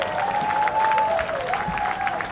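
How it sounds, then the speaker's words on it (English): Steady applause from a golf gallery welcoming a player onto the 18th green at a women's championship final round, moderately distant and continuous, with a faint whistle-like tone gliding above it. "a very big round of applause as we welcome to the 18th green, In-Ji Chun"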